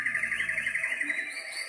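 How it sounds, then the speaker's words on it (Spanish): Birds singing in a steady stream of bright, high chirps and twitters that keeps going throughout, clear and fairly close, with no voices over it. "Escuchaban el canto de las aves"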